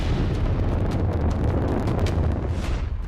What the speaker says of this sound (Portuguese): explosões nos tanques de combustível